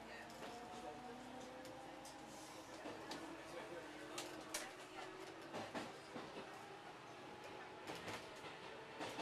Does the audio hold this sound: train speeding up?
yes